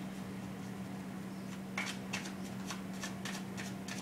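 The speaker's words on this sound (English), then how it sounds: "We're going to place these cards out, Cancer." Tarot cards are laid out by hand, giving a brief cluster of soft, crisp card slaps and slides close to the microphone over a steady low electrical hum.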